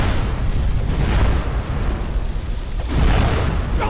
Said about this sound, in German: die Explosion macht Laune